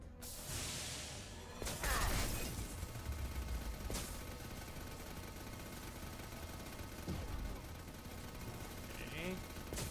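Rapid bursts of weapon fire and impacts fill a firefight in the video game Mass Effect Legendary Edition, continuous and fairly busy, with a few sharper cracks standing out and a player talking at times.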